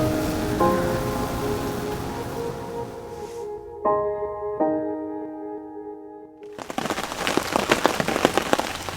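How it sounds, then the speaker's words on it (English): Heavy rain drums on a bivvy tent beside a carp fishing lake, a constant loud patter. Sustained electronic tones ring over it for several seconds, then the downpour swells to a dense, crackling roar. "as you can hear, the rain is walloping down on the bivvy"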